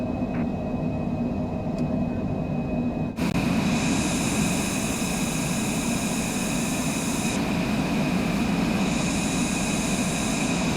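Cessna Citation Longitude business jet taking off in Microsoft Flight Simulator 2024, a steady loud engine roar that swells abruptly after a quieter cockpit hum and then holds, broadband and continuous, with no talk.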